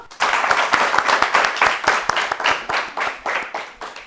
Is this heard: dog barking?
no